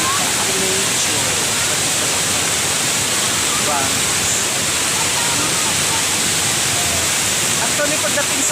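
A mountain resort waterfall roars in a loud, continuous wash of rushing water that masks everything else, steady and close throughout.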